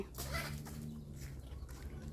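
Chickens cluck softly at close range in a brief, quiet burst over a low background hum.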